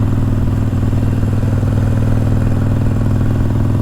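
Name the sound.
Harley-Davidson Iron 883 custom motorcycle riding through town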